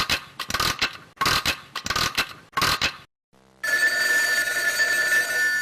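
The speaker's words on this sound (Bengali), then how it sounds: "টেলিফোন বাজছে" A telephone rings in a public phone booth in a cartoon, with several bursts of bright ringing, a short pause and then one long, loud continuous ring.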